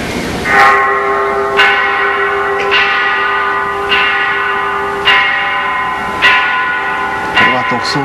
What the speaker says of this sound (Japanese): あの鐘の音をあの音楽の中に取り込んでいまして